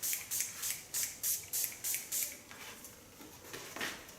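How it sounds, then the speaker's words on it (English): Seven quick spritzes of a diamond hair shine spray bottle in an even rhythm, followed by a couple of softer sprays, close and fairly quiet. "This is a diamond shine spray."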